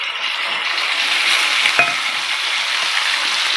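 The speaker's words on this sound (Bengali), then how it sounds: "ছোলাগুলো একটু ভাজা ভাজা হোক" Bright, dense sizzle of chickpeas frying in hot spiced oil, steady and close, with a single sharp metallic clink midway.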